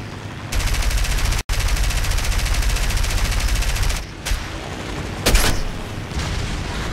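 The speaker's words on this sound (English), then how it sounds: "Ah! I'm being shot!" Aircraft machine guns fire in the War Thunder flight game as a loud, rapid, sustained burst that breaks off briefly and resumes, then gives way to scattered impacts and a sharp bang, with no talking.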